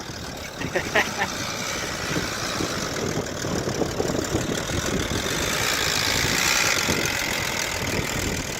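A Volvo XC90's engine idles with a rough, clattering, diesel-like knock, steady and close, with voices talking over it.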